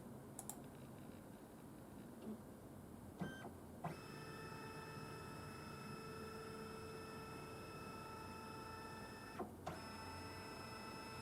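A scanner works through a scan at 400 dots per inch, running with a steady, faint mechanical whine and hum, and a few soft clicks at the start and end of the pass.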